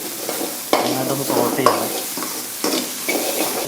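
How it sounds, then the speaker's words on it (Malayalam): Ginger-garlic paste and curry leaves sizzle in hot oil while a spoon stirs and scrapes the pan, close and steady with a few sharper knocks, no talking. "കുറച്ച് കരിവേപ്പില ചേർത്ത് നന്നായിട്ടൊന്ന് സോട്ട് ചെയ്യണം"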